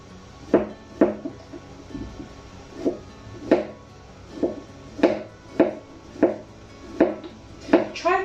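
A knife slicing through courgette on a cutting board, about a dozen crisp, evenly spaced chops landing in a steady rhythm, close and clear with no talking.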